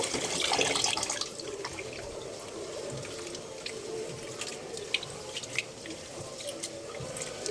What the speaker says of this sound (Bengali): এখন আমি চালটা ভালোভাবে ধুয়ে নিচ্ছি